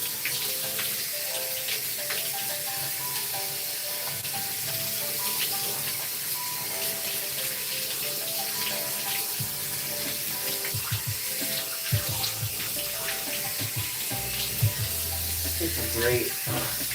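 Tap water runs steadily while bleached hair is rinsed at a sink, a continuous splashy wash that lasts throughout, with a few brief clunks near the end.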